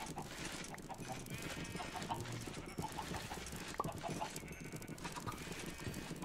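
Chickens clucking in the video game RLCraft: repeated soft clucks and short fowl calls in a steady busy backdrop of game ambience, fairly quiet, with little talk.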